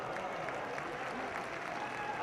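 Steady, dense applause fills a hall as a large audience claps through a political speech at the 2018 Congress plenary session, an even roar of many hands with no break from start to finish.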